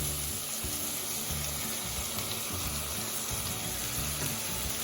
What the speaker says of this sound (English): I am going to add the spices and then stir again.